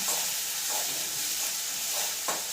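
Crushed ginger and garlic sauté in a pan with a constant soft sizzle and hiss, plus a few light stirring scrapes, close but fairly quiet.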